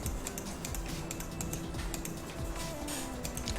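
Rapid keyboard typing clatters steadily, a quick run of light clicking keystrokes at close range with no voices.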